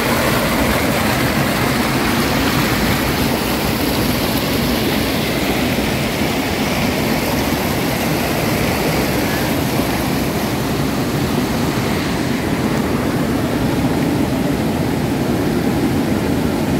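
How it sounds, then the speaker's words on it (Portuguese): Steady rushing of a small stream near the source of the Mogi Guaçu River in Brazil, flowing over rocks, a continuous close wash of water with no pauses or voices. "É um pequeno córrego, pessoal."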